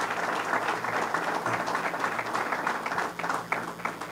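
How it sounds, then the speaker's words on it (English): Audience applause at a governor's announcement event at Boricua College, a steady, dense wash of many hands clapping that holds evenly throughout, fairly close and full. "You can give all yourselves a round of applause."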